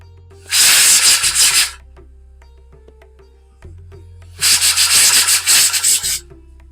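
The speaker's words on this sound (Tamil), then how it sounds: "நம்மளோட குக்கர் சவுண்ட் வந்துட்டு இருக்கு" Pressure cooker whistle on a stove during cooking of Andhra-style green gram sambar, two long loud hissing bursts of steam about two seconds each, separated by a quiet gap, close and with no talking.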